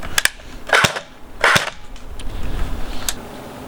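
A Cyma P-90 airsoft gun firing, with several sharp, loud snapping shots spaced irregularly, close by, and brief quiet gaps between them.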